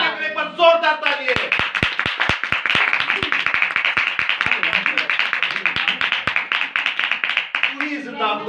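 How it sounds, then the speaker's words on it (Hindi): A church congregation at a Hindi-language sermon breaks into strong rhythmic applause, loud steady clapping lasting several seconds, with a voice speaking at the start and end. "एक बार जोरदार तालियां।"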